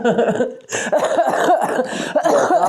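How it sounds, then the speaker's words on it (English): Repeated harsh coughing, loud and close, in several bursts with brief gaps between them. "because I'm coughing my face off"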